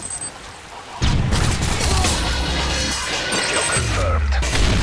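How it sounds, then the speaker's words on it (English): A Predator missile explodes in Modern Warfare 3 with a sudden loud blast about a second in, followed by a dense rumble of crashing debris and rattling gunfire that carries to the end. "Predator missile inbound."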